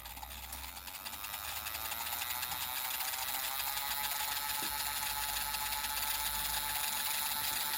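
Small, low-powered robot motor on a test bench spinning up to maximum speed, a whirring mechanical hum with gear-like ratcheting that grows louder in the first seconds and then holds steady, with no talking.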